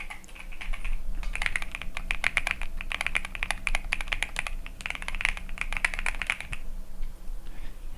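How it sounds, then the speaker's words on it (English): A clicky computer keyboard rattles with fast, close bursts of crisp keystrokes, pausing briefly between flurries and then stopping near the end. "Have y'all heard my keyboard? It's a really nice little clicky clack."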